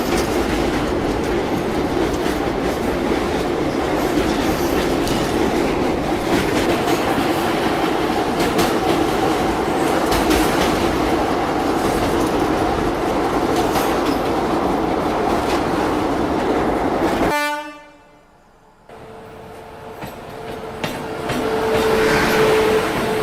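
Train rumbling steadily over the rails as it crosses the Tapti river, loud and continuous with clickety-clack wheel noise, briefly cutting out near the end before the rolling resumes.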